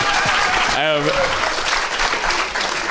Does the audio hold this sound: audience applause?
yes